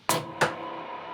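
Two bright electric guitar strums through a Boss RV-5 reverb pedal, each ringing out into a long, smooth reverberant wash that lingers after the playing stops.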